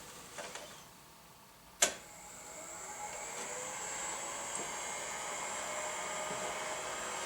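A heat press for curing screen-printing ink switches on with a sharp click, then settles into a steady, fairly loud whirring hum that holds evenly to the end, with no talking.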